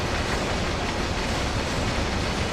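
A train rumbles steadily through the night in the Train Sim World Heavy Metal scenario, with dark, rainy conditions. A dense, continuous roar of wheels and rail noise holds close and even throughout, with no voices.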